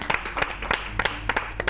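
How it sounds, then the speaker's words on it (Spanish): An audience at a cultural event applauds, a short burst of irregular hand claps that stays moderately loud and fairly close, with no talking over it. "Por eso este aplauso también a Sofía Casanova."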